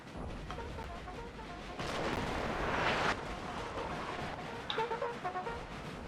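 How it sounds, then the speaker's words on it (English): Cannon fire rolls through a Napoleon Total War battle in the NTW3 mod, a dense, continuous rumble of booms and crackling volleys that swells in the middle before settling back into a steady din, with no talking. "cannons getting ready."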